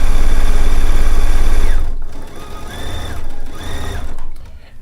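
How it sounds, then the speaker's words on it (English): A sewing machine runs fast while stitching binding onto a quilt, first in a long loud whirring burst, then in several shorter runs with brief pauses between. "I'm going to stop this line of stitching 1/4 inch from the edge of the quilt sandwich"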